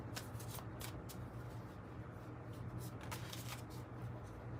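Tarot cards are shuffled in quick riffling bursts close to the microphone, quiet, over a low steady hum.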